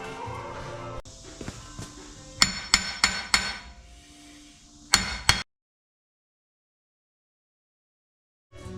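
A regular hammer striking a rusted, press-fitted hub assembly on a Ram 3500, five sharp metallic taps in a quick run followed by two more close together, alone and close to the microphone.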